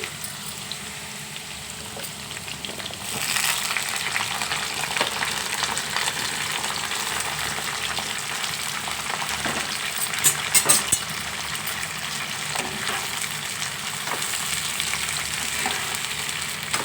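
Pieces of potol (pointed gourd) fry in oil for a masala curry, a continuous loud crackling sizzle that swells after a few seconds, with occasional spatula scrapes and pops.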